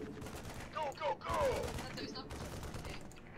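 A plasma gun fires in rapid bursts in a zombie survival video game, quick rattling volleys under players talking over each other.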